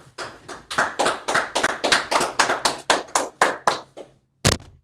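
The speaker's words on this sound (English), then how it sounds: "All right, let's clap it up." A small class claps together in loose, rhythmic unison, about a dozen sharp, close claps in steady succession, then a short pause and a single final clap, with no talk over it.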